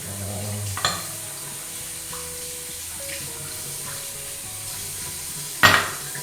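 Running water rinsing out a shaving brush during a head shave, a steady close splashing flow under the tap with a couple of brief knocks and clinks.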